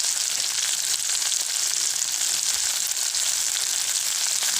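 Chopped tomatoes sautéing in hot oil for sambar, giving a steady, loud, continuous sizzle and crackle close by that carries on without a break.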